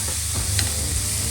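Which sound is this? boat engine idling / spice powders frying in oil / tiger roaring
spice powders frying in oil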